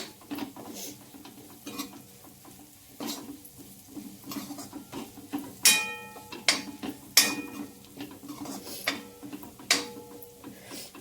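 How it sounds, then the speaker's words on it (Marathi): Peanut powder being stirred into a vegetable mixture in a metal pot, heard as close, irregular scraping and clinking of a spoon against the pan with sharp metallic knocks, no talk. "परत एकदा मिक्स करून घेते"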